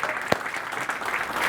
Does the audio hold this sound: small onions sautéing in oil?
no